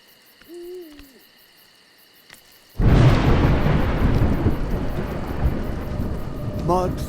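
An owl hoots briefly, then a sudden loud thunderclap bursts in and rolls on as a long rumble with rain in a stormy scene of the video game A Juggler's Tale.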